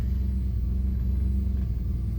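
A Mercury Monarch's engine idles with a steady, low rumble heard from close by, probably from inside the car, holding even and unbroken throughout.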